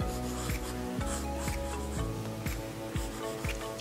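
A pencil scratches across drawing paper in quick rhythmic back-and-forth strokes, close and fairly loud, repeating about twice per second.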